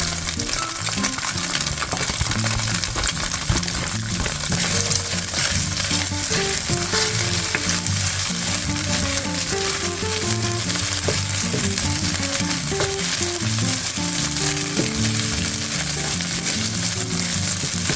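Onion and ginger fry steadily in a pan for broccoli beef, a loud, continuous sizzle with occasional stirring clicks, heard alone without talk.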